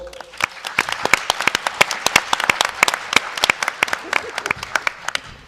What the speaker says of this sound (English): Let's give her a big round of applause, Miss Hannah Bolt.